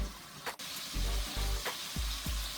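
Scallops sear loudly in a hot pan with a continuous sizzling hiss, broken by a few sharp clicks and brief stirring knocks.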